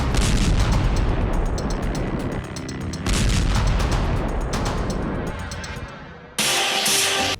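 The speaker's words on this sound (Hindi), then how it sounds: "इलाके में हुए धमाके देखिए" Dense, continuous rumbling blasts and rapid bangs like heavy gunfire and artillery, loud and sustained, easing briefly before a sharp final burst.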